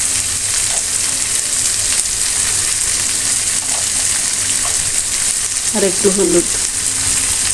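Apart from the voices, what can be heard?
snake gourd frying in a pan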